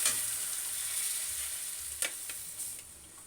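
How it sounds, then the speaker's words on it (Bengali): Taro leaves stir-fry in a hot pan, a continuous close sizzle with a few sharp scrapes of the spatula near the end. "এবার আমি কচুর শাকটাকে দিয়ে দেবো, দিয়ে আমি কষাতে থাকবো।"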